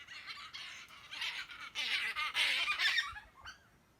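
Two chickens squabble nearby, a rising run of agitated squawks and clucks building over a few seconds before quieting, heard alone without talk.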